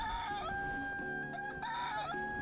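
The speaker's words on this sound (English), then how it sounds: "So many roosters." Several roosters crowing in the farming video game Dinkum, with repeated overlapping cock-a-doodle-doo calls in close succession, loud and clear with no talking.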